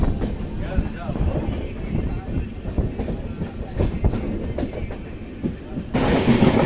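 A fast passenger train on the Bengaluru to Mysuru line runs along the tracks with a steady rumble and rattling clatter heard from on board, a louder wind rush swelling at the end, while people talk over it.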